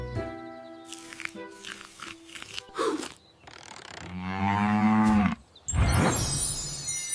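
Cow mooing on a farm within a children's farm-animals song, several drawn-out moos with musical tones and clanking sounds between them, fairly loud and close.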